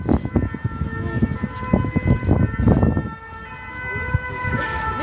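A fire engine siren wails steadily in the distance, its tone held for several seconds while people talk over it nearby.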